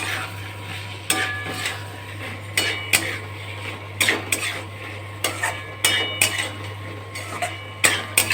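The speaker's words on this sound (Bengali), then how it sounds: "আলুটাকে আমি এর মধ্যে দিয়ে দিলাম, খানিকটা কিছুটা সময় এবার নাড়ানাড়ি করব।" Potatoes for spicy aloo dum stirred in a cooking pot, with a series of sharp spoon knocks and scrapes against the metal over a low steady hum, close and without talk.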